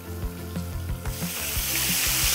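Floured veal frying in hot cooking oil gives a close, loud crackling sizzle that intensifies and brightens as pieces hit the pan, with a few soft knocks and thumps underneath.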